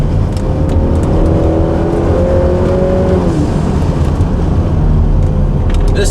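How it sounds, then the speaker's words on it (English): A hybrid-turbo, roughly 400 hp Honda Accord drones loudly from inside the cabin as it takes corners, engine pitch holding, then dropping at a downshift before building again under acceleration, with steady road noise throughout. "So going through some corners, downshift."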